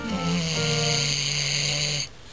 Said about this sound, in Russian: Во время сна лицевые и челюстные мышцы расслабляются, и дыхательные пути могут сомкнуться, чем спровоцирует храп.